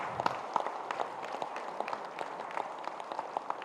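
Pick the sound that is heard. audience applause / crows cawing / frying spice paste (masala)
audience applause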